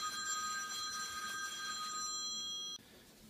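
Telephone ringing in a room: a steady electronic ring tone with a bright, tonal trill, fairly faint and slightly distant, lasting under three seconds before stopping abruptly, with no talk over it.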